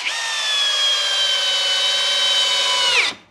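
An 18V Makita replica power tool motor whines at a high, steady pitch for about three seconds while driving in under load, then spins down abruptly and stops, close and loud.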